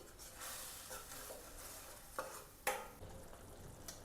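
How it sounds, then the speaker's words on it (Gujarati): Ginger, garlic and chili gravy being stirred in a sizzling pan for palak paneer, a soft continuous fry with a few sharp spoon scrapes and knocks against the pan, quiet and close. "હવે આપણે આદુ લસણ મરચાંની ગ્રેવી એડ કરી દઈશું। તેને આપણે મિક્સ કરી લઈશું।"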